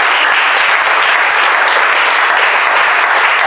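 A church congregation breaks into steady, dense applause throughout, loud and close, with no break in the clapping.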